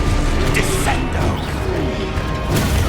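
Descendo spell effect in Hogwarts Legacy: a few crashing, mechanical thwacks and clattering hits over busy game ambience, fairly loud and without talk.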